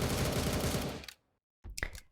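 Soldiers' guns firing in the Roblox game The Resistance Tycoon: a dense, rapid burst of loud gunfire for about a second, a brief silence, then a couple more sharp shots.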